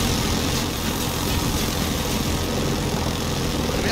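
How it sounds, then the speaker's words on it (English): Helicopter in the video game Battlefield 2042, a dense, loud, steady engine and rotor roar filling the whole clip without pause. "Yes, fly up. That's what a helicopter's supposed to fucking do."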